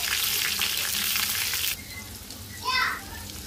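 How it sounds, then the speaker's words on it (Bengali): Mola and pangas fish fry in a pan with a loud, hissing sizzle that drops suddenly partway through, followed by a brief faint voice. "এরপর মাছগুলো ভেজে নিব।"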